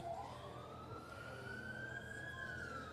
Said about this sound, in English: As we've got an ambulance in the back.